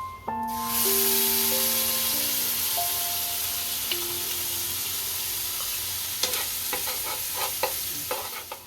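Chutney for a Gujarati potato dish tips into hot oil already tempered with asafoetida, bursting into a loud, steady sizzle and hiss that settles into continuous frying, with a few scraping stirs near the end.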